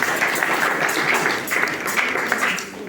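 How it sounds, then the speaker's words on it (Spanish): Audience applause during a church service, a steady wash of many hands clapping that fills the room and holds at an even level before easing slightly at the end. "Si ese aplauso fue para mí"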